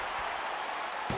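Crowd in the WWE 2K19 wrestling video game roaring at a near fall, a dense, steady wash of cheering and applause that holds at moderate volume through the whole moment.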